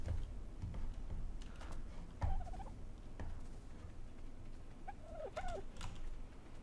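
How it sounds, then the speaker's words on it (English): Birds calling in the survival game Ark: Survival Evolved on the Ragnarok map, a few short warbling coos early and a brief cluster of them later, moderately faint over low ambient rumble and scattered clicks. "Birds."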